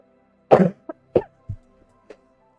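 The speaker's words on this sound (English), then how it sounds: "Getting sleepy from all the coughing." A few short, harsh coughs close by: one heavy burst, then several smaller hacking coughs spaced out over a couple of seconds.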